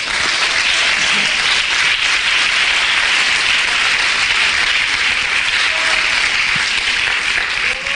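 A church congregation applauds during a sermon, a loud, sustained wash of clapping from many hands that holds steady from start to finish.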